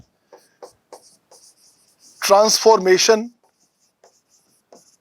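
A teacher writes problems on a board during an indefinite integration lecture, producing soft, scattered scratching strokes that pause while someone speaks briefly, then resume faintly.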